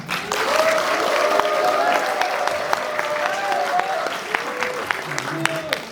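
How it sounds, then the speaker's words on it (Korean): A crowd at a Chakma Bizu bamboo dance performance in South Korea claps and cheers warmly, with sustained applause carrying rising shouts and whoops over it, close and lively throughout. "뜨거운 박수 함성."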